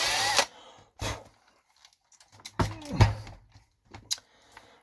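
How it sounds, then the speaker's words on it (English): A small drill enlarges a hole in a part for an electronics build, with several short close bursts of whirring separated by pauses and faint handling clatter. "I realized that hole is a little bit too small, so just drill some more."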